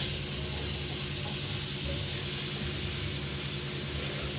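A knob of melted butter in a frying pan, giving off a steady, even hiss of sizzling at moderate level with no distinct pops, ending in a brief louder burst.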